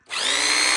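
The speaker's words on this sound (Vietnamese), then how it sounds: "Búa này các bác." A Hukan rotary hammer drill kicks on abruptly in hammer mode, running loud and close with a dense, steady rattle for under a second.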